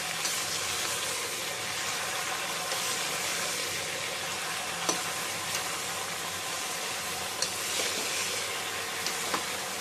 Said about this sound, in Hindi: मैंने मैरिनेट करके जो रखा था लौकी प्याज, अब इसे हम अच्छे से चला लेंगे